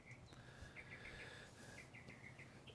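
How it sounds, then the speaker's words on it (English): Small birds chirp outdoors in faint, repeated high tweets scattered over a soft background hiss, with no voices. "I love sitting out here and watching the birds or listening to the birds chirp."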